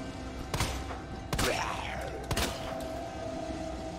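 A few sharp shots in the Resident Evil 2 game, three distinct loud bangs spaced about a second apart, each with a short ringing tail over a steady background hum.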